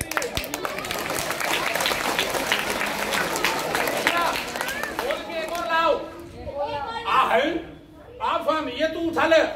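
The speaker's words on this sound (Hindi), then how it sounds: "बजाओ ताली।" Audience applause at a school magic show: a dense burst of clapping and crowd noise that fades out midway, followed by excited children's voices and chatter.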